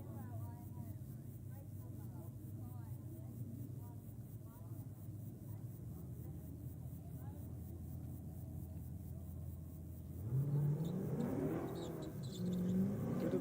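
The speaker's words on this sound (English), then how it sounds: "And it's got the BMW coming out against this beautiful wagon. Oh man, listen to that baby sing." A BMW and a wagon launching off the start line at a drag racing event, low engine rumble building into a loud revving surge as the cars pull away, with a voice talking over it.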